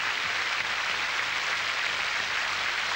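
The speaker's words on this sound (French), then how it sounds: "Que vous pouvez applaudir des deux mains et de tout votre cœur." A TV studio audience applauds in a dense, steady wash of clapping that holds evenly for the whole stretch, with no voices over it.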